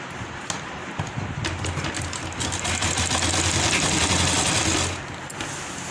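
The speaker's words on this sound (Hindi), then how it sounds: "हम यहीं से इसे जोड़ना शुरू कर देंगे।" A sewing machine stitches kurti sleeves together, running steadily in a fast whirring rhythm with a few clicks before it slows and stops near the end, close and without talk.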